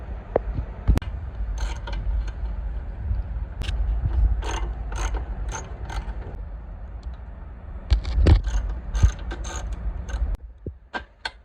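Ratcheting wrench unscrewing the three nuts holding the brake assembly on a 1983 Yamaha YTM 200, a close series of rapid metallic clicks and ratchet bursts with occasional knocks.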